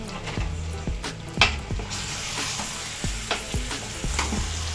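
Pork roast sizzling steadily in a hot pan, a continuous loud frying hiss with repeated scraping stir strokes at a regular pace, close up with no talk.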